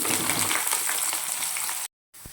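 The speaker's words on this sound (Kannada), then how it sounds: "ಈರುಳ್ಳಿನ ಒಂದು 5 ಮಿನಿಟ್ಸ್ ಫ್ರೈ ಮಾಡ್ಕೋಬೇಕು" Chopped onions frying in a pan with curry leaves, mustard seeds and cumin, a close continuous sizzle that cuts off abruptly near the end, followed by a short quieter stretch with a low thump.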